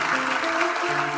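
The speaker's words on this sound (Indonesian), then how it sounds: "kasih tepuk tangan untuk Tuhan." Congregation applause during a church sermon, a brief loud burst of dense clapping with a steady hum underneath.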